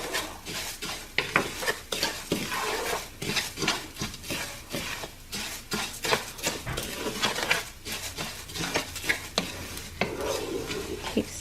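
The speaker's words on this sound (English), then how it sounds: "Now I gotta stay right here and keep stirring, because if not, it will burn." Mexican rice is stirred continuously in a hot pan, with close rhythmic scraping and rattling of the spoon through the grains over a light sizzle, repeated strokes throughout.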